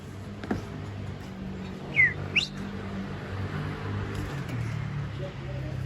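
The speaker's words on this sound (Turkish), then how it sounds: "şöyle kuşları çekeceğim size" A couple of brief bird chirps, fairly close, rise over steady background noise and low rumble, with a person speaking faintly in the background.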